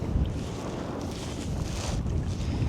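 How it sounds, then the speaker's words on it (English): Strong wind buffets the microphone in a continuous low roar out on a lake while walleye jigging from a boat, with faint water lapping beneath the steady gusts. "This wind is crazy. Just blowing me like mad."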